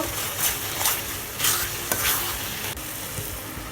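Amla (gooseberry) pickle is stirred with black salt in a pan, giving a soft continuous sizzle broken by several rhythmic scraping strokes of a spoon, close by, with no voices.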